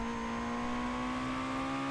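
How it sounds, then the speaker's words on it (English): Mitsubishi Lancer engine in Need for Speed Most Wanted, a sustained steady drone with a slowly rising pitch, held at constant loudness as if cruising or under light throttle, no voices. "Like, this car sounds awesome."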